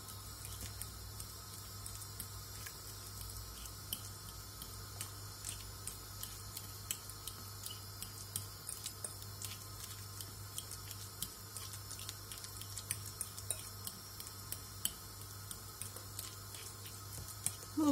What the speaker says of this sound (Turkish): Muzumu ezeceğim.